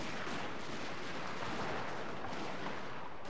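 Dense, continuous gunfire and artillery fire from a battle in the video game Shogun 2: Fall of the Samurai, a steady roar of overlapping shots and booms with no clear gaps.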